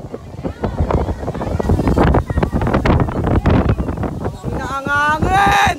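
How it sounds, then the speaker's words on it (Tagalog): Strong outdoor wind batters the microphone in heavy, uneven gusts, with people talking loudly over the roar. "Ang hangin!"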